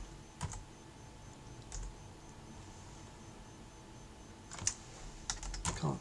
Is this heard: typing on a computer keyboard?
yes